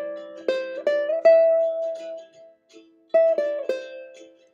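Ukulele plays a short, simple solo of a couple of repeated motifs, with bright plucked notes and sustained tones, clear and close, and no voices.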